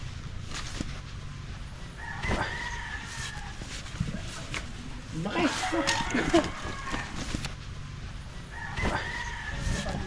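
A rooster crows several times at a distance on a chicken farm, with hens clucking and people talking intermittently over a farmyard background.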